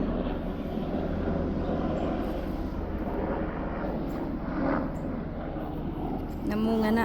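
A helicopter passes overhead, a steady broad rumbling drone that fills the whole stretch at constant loudness, with a voice briefly heard near the end.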